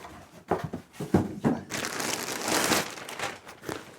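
A Christmas gift box from Engwe is unpacked up close, giving scattered crinkles and rustles of packaging that swell into a longer, louder burst of crumpling paper or plastic.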